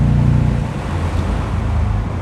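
A 2003 Mercedes SL55 AMG engine downshifts to third gear, heard from inside the car as a loud low rumble that drops and then steadies under road noise.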